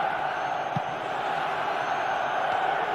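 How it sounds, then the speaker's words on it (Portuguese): Stadium crowd in the football video game PES 2010 at a Lokomotiv Moscow versus Bahia match, a steady broad roar of supporters that holds level throughout, with a brief low thump near the start. "Paulo Vinícius Coelho, escuta só esta torcida. Eles vão apoiar o time o tempo todo, hein?"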